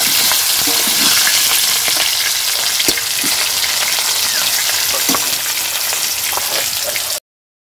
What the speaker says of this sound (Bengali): ভাজা হচ্ছে, একটুকুন দেখি উল্টিয়ে পাল্টিয়ে দিই, ভাজা হয়ে যাক।